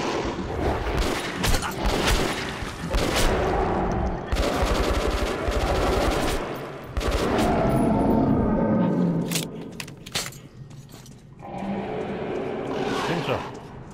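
Shotgun blasts in the video game Metro: Last Light, a series of loud, dense bursts layered over continuous game noise and voices for most of the stretch.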